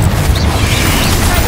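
In Hogwarts Legacy, Confringo and Bombarda spell explosions keep up a continuous loud barrage of booming blasts and crackle, with a voice partly buried in the din.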